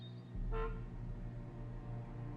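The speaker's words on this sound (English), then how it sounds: "Who is honking outside the sheriff's office?" A car horn honks outside a sheriff's office in Alan Wake Remastered, a single short toot over a quiet low engine-like hum in the game scene.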